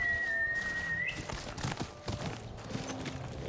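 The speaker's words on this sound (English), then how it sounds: "let's call our horse" A horse called in Ghost of Yotei trots up with steady clip-clop hoofbeats over a bed of game ambience, a whistle-like tone sounding near the start.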